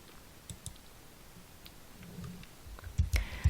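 Light clicks from a computer mouse while working through an online tax payment form, a few soft taps followed by a louder cluster of clicks near the end, close and dry with no talking.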